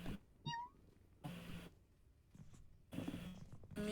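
A short, faint, high-pitched meow from a small cat in the video game Ikenfell, mixed in with quiet game sounds and soft background noise.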